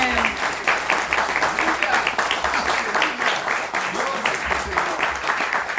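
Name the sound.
congregation applause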